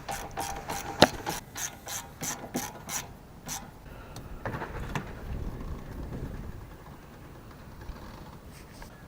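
Hand ratchet tightening parts while a Nissan Pulsar NX is reassembled, a quiet, close series of rapid clicking strokes in short bursts, fading into faint rubbing and handling noise.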